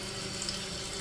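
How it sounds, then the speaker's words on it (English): Tap water runs steadily from a faucet inside a newly built house under construction, a constant broadband rush that fills the short clip without talk. "Let's turn that water on."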